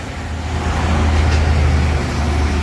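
Semarang Jaya bus speeding along a straight road, a loud, close engine drone with a deep steady rumble and rushing road noise, rising slightly as it passes.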